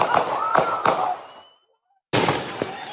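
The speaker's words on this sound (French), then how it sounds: "un premier coup de feu, suivi par une dizaine d'autres" Gunshots captured in news footage of federal agents confronting a protester, several sharp loud cracks in quick succession, a sudden silent gap, then more reports with a reverberant, noisy outdoor tail.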